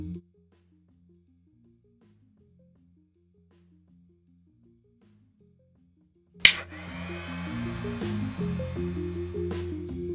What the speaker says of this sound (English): On some printers, the fan turns on immediately as well.